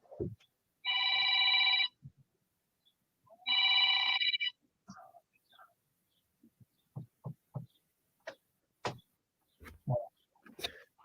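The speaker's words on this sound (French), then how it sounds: "il y a le téléphone qui sonne" A telephone bell rings in two loud, steady bursts of about a second each during a French-language conversation, followed by scattered clicks and brief voice fragments.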